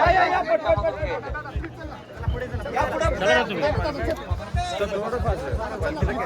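Dense, steady crowd hubbub fills the market at Raigad during the Shivrajyabhishek festivities, with many voices chattering at once both near and farther off.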